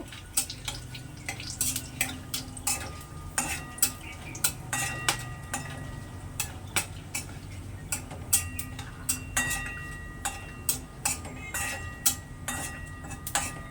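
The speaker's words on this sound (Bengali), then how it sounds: "গোটা কাঁচা জিরে দিয়ে দিলাম সঙ্গে গরম মশলা দিয়ে দিচ্ছি দিয়ে একটু নেড়ে চেড়ে নেব" Whole cumin and garam masala crackling in a pan while being stirred, quiet sizzle under repeated clicks and taps of a spatula against the metal in a loose rhythm.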